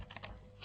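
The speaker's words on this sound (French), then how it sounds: "je prends mes ciseaux et je coupe" Scissors trim excess paper on a handmade butterfly folio box, giving a few crisp, close snips spaced unevenly over a quiet background.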